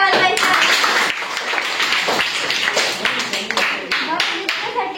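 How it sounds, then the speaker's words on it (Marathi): Schoolchildren clap together in a primary school classroom quiz, a dense run of hand claps with overlapping voices, fairly close and steady for several seconds. "या लिहिसाठी सगळ्यांनी टाळ्या वाजवायच्या."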